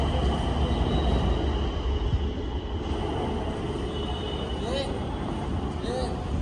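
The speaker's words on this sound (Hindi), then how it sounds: "देखिए दे चले ट्रेन। ओ भाई का स्पीड भागते एकदम।" A Nagpur metro train rumbles past at speed with a steady roar of wheels on rails, a few brief metallic squeals rising near the end.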